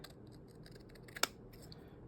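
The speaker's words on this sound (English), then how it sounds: "But I will grab my scissors here" A single quick snip of scissors cuts through paper against a quiet background, with faint rustling around it.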